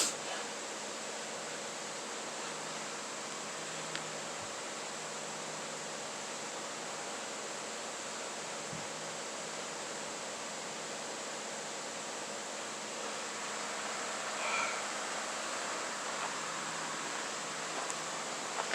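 Creek water rushes steadily beside a hiking trail near a bridge on Diamond Creek road, a constant broadband wash with no breaks, fairly faint and unaccompanied by talk.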